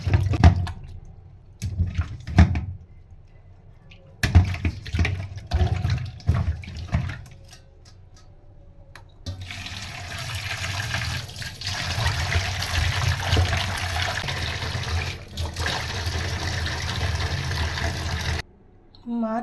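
Salted rohu fish pieces are rinsed under water: scattered splashes and trickles at first, then a long, steady stream of running tap water pouring into a sink before stopping abruptly.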